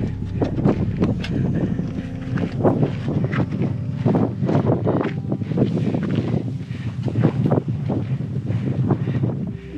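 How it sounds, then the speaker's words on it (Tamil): Strong wind gusts roar steadily across a forest hillside on Velliangiri Hills during a forest fire, buffeting the microphone in heavy continuous rushes with louder surges throughout, and no talk. "சரியான காற்று."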